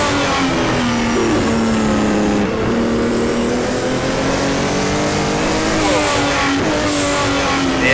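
A turbocharged BMW M1 race car engine in the rFactor racing simulator revs loudly and continuously, its pitch climbing and dropping through gear changes as the car drives up a hill.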